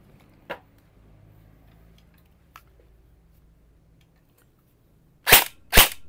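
Two sharp, close shots from an E&C DDM4 PDW airsoft AEG rifle snap out in quick succession near the end, after a few faint clicks and quiet handling noises.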